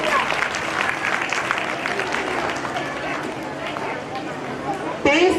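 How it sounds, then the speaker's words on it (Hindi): A school quiz audience applauds a correct answer with a steady, lively clapping crowd, while voices talk over the clapping throughout. "बिल्कुल सही जवाब, जोरदार तालियां हो जाए।"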